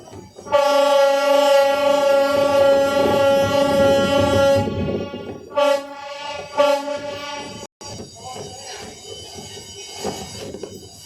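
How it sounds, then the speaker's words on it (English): A long, loud, steady boat horn blast with rich harmonic tones holds for several seconds, sounded at a bridge, then two shorter bursts follow amid ambient noise. "That was Captain Ryan's way of thanking the bridge by blasting one long blast"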